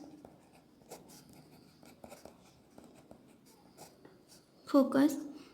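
Pen or chalk scratches out a physics rule in short strokes and taps, faint and intermittent, with a brief louder voice near the end.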